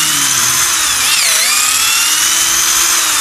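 Power drill boring into red sandalwood in a Hanoi woodworking shop, a steady high whine that dips briefly in pitch midway then resumes, close and loud throughout.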